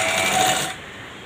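Sewing machine stitching a folded hem on blouse fabric, a steady close whirring run that stops abruptly partway through, leaving quiet room tone.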